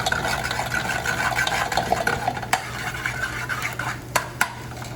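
Onions sauté in oil in a pan while a utensil stirs them, giving a steady sizzling hiss with scraping and a few sharp clinks of metal against the cookware.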